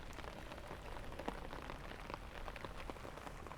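Steady rain pattering on an umbrella overhead, dense and even, with occasional heavier drops tapping close by.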